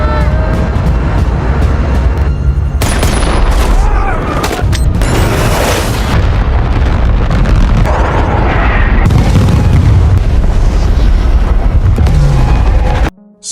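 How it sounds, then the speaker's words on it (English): A film airstrike unleashes loud, continuous explosions, with deep booming rumble and sharp blasts rolling one after another almost without pause. "an airstrike sent by Captain Eddie arrives"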